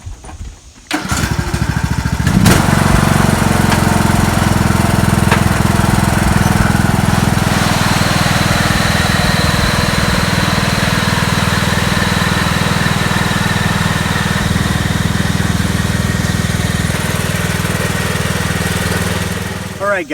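A lawn tractor towing a tarp by a cord starts up after about a second and then runs loudly and close for the rest of the clip. Its steady, droning engine note holds without a break.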